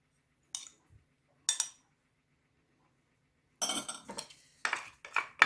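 A spoon scrapes saffron-tinted egg yolks into a bowl with a few short, separate metallic clinks and scrapes, near and fairly quiet, with silent gaps between them.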